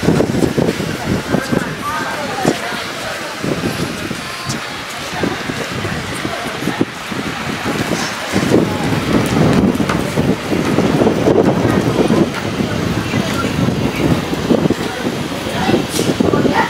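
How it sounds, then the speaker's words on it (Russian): Strong wind buffets the microphone outdoors in Gamcheon Culture Village in Busan, a loud, steady roar with gusts throughout and a voice speaking underneath. "Пока ветер дует, я молчу"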